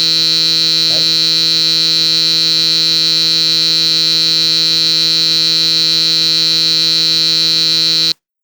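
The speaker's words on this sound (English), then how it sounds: "the buzzer was also on" A RoboGuru robot kit's buzzer gives one steady, piercing electronic tone that holds unbroken for about eight seconds before cutting off abruptly, loud and alone.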